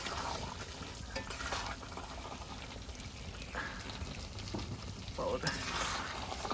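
Meat being stir-fried down for kosha in a home kitchen pan gives a steady close sizzle and frying hiss with occasional stirring scrapes.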